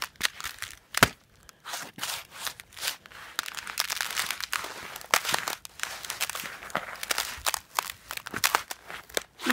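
Icy driveway crunching and cracking underfoot in freezing weather, irregular close crisp crackles and crumpling snaps as someone steps across the frozen surface, with brief quiet gaps between footfalls.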